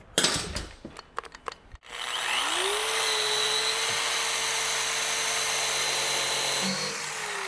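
A power sander fitted with a coarse wheel works over a boat hull during prep for painting: a few knocks and scrapes, then the motor spins up and grinds loudly and steadily, close by with no voices.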